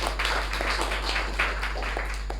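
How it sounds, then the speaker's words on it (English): Applause from a meeting audience, a steady patter of many hands clapping at moderate distance, continuous and fairly even throughout with no talk over it. "Let's give him another round of applause."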